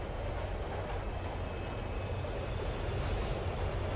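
Inside a train in a horror video game, a constant low rumbling drone fills the carriage evenly with no voices.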